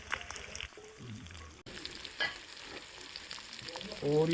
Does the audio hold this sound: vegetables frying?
yes